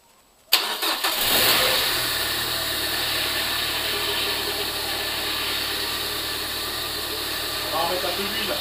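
A Peugeot 206 GTI S16 engine cranks and catches after a brief quiet moment, then settles into a loud, steady idle that runs close by without a break.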